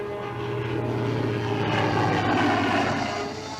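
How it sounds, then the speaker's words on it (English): Fleet Air Arm aircraft flying over, a steady loud propeller-engine drone holding throughout with a gentle swell in the middle. "planes of the Fleet Air Arm and Coastal Command patrol the skies and search the seas"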